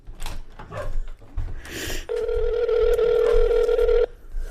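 A telephone rings in a single steady electronic tone lasting about two seconds, loud and close, after some brief clicks and handling noises.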